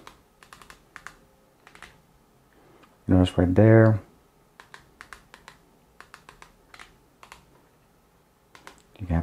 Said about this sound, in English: It does have a clicky sound. It's not quiet, unfortunately, but it definitely does work